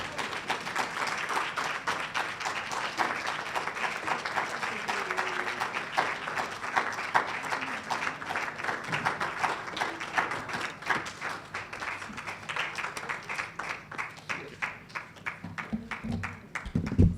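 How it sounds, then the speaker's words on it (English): Audience applause following a lecture in a hall, broad continuous clapping that thins toward the end into sparser, more distinct individual claps, with a faint low voice briefly near the close. "That deserves another round of applause."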